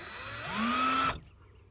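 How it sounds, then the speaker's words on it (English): A power drill bores a hole in the handle of a foil wing, its motor whine ramping up in pitch and holding steady for about a second before cutting off sharply, close and loud. "I'm going to drill a hole"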